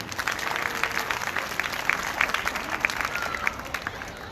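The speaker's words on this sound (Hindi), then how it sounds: "तो इन बच्चों के लिए भी हम तालियां बजाते हैं।" A crowd at a Catholic mass claps for the children who served at the altar. The applause is moderately close and fairly dense, with a murmur of crowd voices mixed in.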